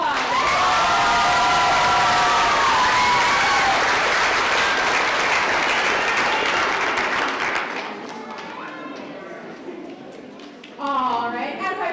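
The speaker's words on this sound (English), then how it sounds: "Give them another round of applause." Loud applause and cheering from the audience at a junior summer camp show, with children whooping. The dense clapping fades after several seconds and voices carry on over the thinning crowd.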